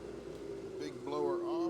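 A large shop blower runs as a steady droning hum with a constant low tone, while a person talks briefly over it near the end.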